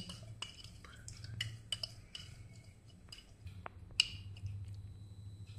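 Bitter gourd pickle stirred with a spoon in a jar or pot, a series of soft, irregular metallic clinks and scrapes, faint and close, over a low background hum.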